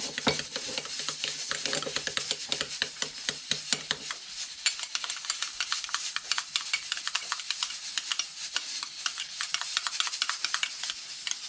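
Natto starter is stirred into really hot water, with a utensil scraping and clicking rapidly and steadily against the container. The sound is close and continuous, with no talking.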